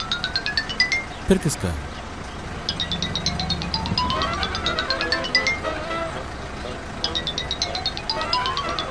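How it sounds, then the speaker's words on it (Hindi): A phone ringtone chimes in repeated rising melodic bursts, with a short clatter early on and a person speaking briefly over it. "सर आपका फोन बज रहा है, या तो इसे उठा लीजिए या फिर साइलेंट कर दीजिए।"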